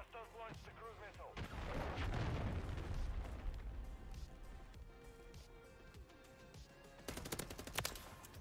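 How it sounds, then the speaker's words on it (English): Cruise missile strike in Call of Duty MW3 ranked Hardpoint play: a heavy, rumbling blast swells and rolls for several seconds amid scattered gunfire, with sharp crackling bursts near the end. "Hostiles launched the cruise missile."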